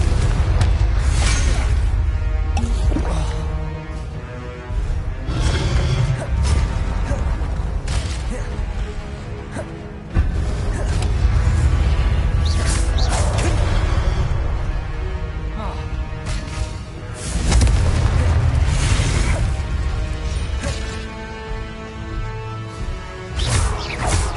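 Confringo fire spells burst repeatedly in Hogwarts Legacy, a run of loud booming blasts and whooshes at irregular intervals, with voices and game sounds around them.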